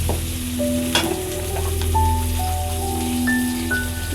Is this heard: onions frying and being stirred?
yes